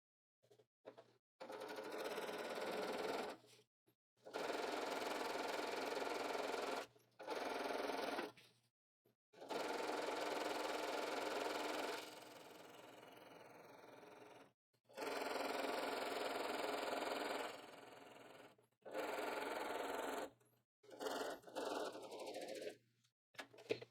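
A sewing machine runs in several bursts of a few seconds each while stitching a 1/4 inch hem on a pocket, with a steady whirring and brief pauses between runs, close and clear.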